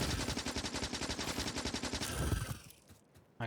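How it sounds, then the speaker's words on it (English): Turrets in the game Factorio fire in a rapid, continuous automatic burst for about two seconds, then the gunfire falls away to near silence. "the turrets actually do more damage than the submachine gun"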